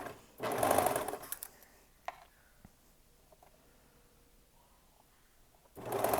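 A sewing machine stitching knit fabric runs in two short bursts at the start and end, loud and close, with quiet handling clicks and faint rustling between them.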